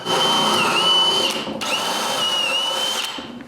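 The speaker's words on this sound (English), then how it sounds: "Next, it's time to drill the holes under the top." A power drill whines steadily at high speed drilling holes in wood for a small workbench, stopping briefly once before starting again, loud and close with no voices.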